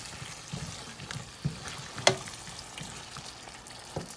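Beef stew being stirred together with beef bouillon in a pot, giving soft scraping and wet mixing sounds with a brief louder clink, alone and fairly close.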